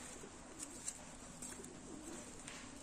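Pigeons at a pigeon loft give faint, soft coos at low level, heard at a distance against a steady background hum.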